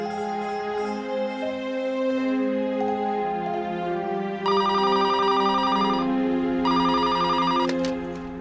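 A telephone rings in two bright, rapid trilling bursts, each lasting a little over a second with a short gap between, sounding over a steady musical background.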